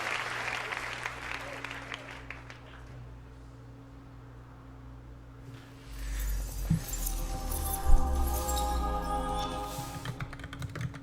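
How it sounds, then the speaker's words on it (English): At an Ubisoft E3 2017 presentation, an audience breaks into cheering and applause partway through, swelling from a quiet hall to a loud, sustained crowd roar with scattered whoops. "What are they cheering for?"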